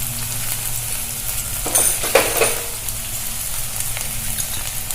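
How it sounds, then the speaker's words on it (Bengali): Cumin, dried red chillies and ginger-garlic paste fry steadily in hot oil for Bengali mutton kosha, a continuous close sizzle with a brief louder crackling burst in the middle as more spice goes into the pan. "এই মশলাটাকে খুব সুন্দরভাবে কষিয়ে নিব।"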